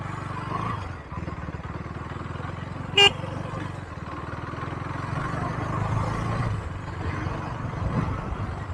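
A motorcycle engine runs again after being restarted, a steady low rumble that continues throughout, with a sharp brief tone near the middle.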